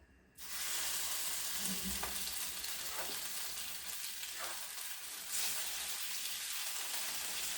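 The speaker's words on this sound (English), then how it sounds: "right now the oil is like warm now. I'm going to put this in the pan." Stuffed tofu sizzles loudly in warm oil in a pan, with a steady broadband frying hiss from start to finish and a few faint clicks and soft bumps from handling.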